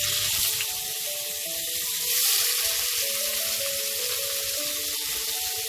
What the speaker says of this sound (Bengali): এই চিংড়ি মাছগুলো একটু ভেজে নেব।